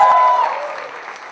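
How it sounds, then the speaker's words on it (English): Students at a film school convocation ceremony applaud, a dense burst of clapping that is loudest at the start and then slowly fades while still continuing. "all the wonderful students who've been clapping and applauding"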